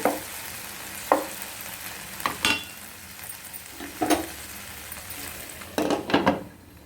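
Okra and spring onions fry in a pan, a low steady sizzle broken by several distinct clinks and scrapes of a utensil against the pan, close and clear with no voices.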